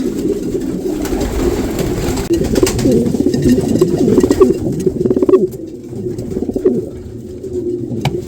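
Pigeons coo in a loft, a dense overlapping chorus of low, throaty cooing close by, with wing flutters and a few scrapes throughout.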